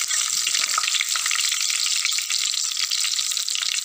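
Two cut dried red chillies frying in hot oil for a Kottayam-style fish curry, a loud, close, steady hiss and crackle that runs unbroken with no voices.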